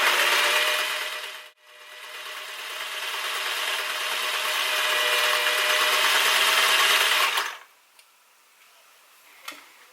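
A sewing machine stitches fabric in a long steady whirring run of about six seconds after a brief pause near the start, loud and close, then stops, leaving a few faint clicks.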